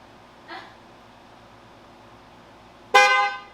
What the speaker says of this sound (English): All right, hit the steering wheel horn.